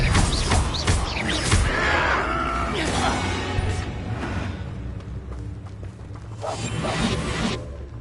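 The Expelliarmus spell is cast in Hogwarts Legacy, a loud magical whoosh and swish layered over busy game sounds, with rumbling and bursts across the stretch.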